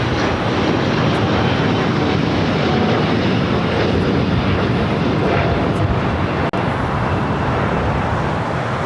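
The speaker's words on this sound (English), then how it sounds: "Takeoffs coming up here on the south side" A jet airliner roars on its takeoff roll from the south runways at LAX, a dense, loud, unbroken engine rumble that holds steady throughout.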